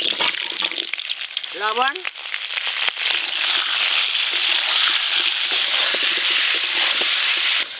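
Whole pricked potatoes sizzle steadily in hot oil for a Bengali aloo dum, a constant close frying hiss with light crackles throughout, while someone speaks briefly near the start.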